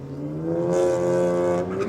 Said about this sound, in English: Such a clean launch out of the BMW